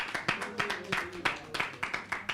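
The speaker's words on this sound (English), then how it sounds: "Another round of applause, please, for that" Audience applause following a kirtan at a Sunday temple program, a run of sharp, fairly regular claps from a small gathering, moderately close, with a faint voice underneath.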